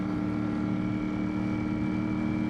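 A Ducati Streetfighter V4S motorcycle rolls along at low speed, its engine a continuous, even drone with a steady hum and no clear change in pitch or loudness.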